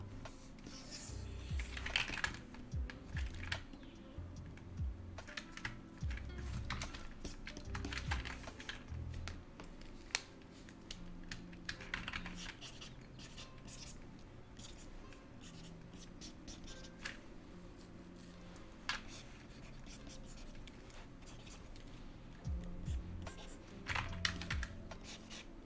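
Loud computer keyboard clattering with steady, rapid keystrokes across the whole stretch, close and dry, with occasional heavier clacks and no speech.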